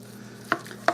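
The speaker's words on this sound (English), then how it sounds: "We're going to get that mushroom soup all mixed up in this rice." A utensil mixes mushroom soup into cooked rice in a pot, giving two sharp, close clacks about a third of a second apart over a faint background hum.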